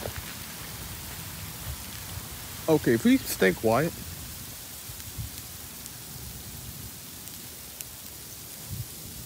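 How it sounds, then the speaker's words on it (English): Hail falling outdoors on slippery ground makes a steady, fine patter throughout, with a brief spoken line in the middle over the noise. "It's still hailing right now."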